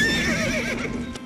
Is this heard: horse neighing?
yes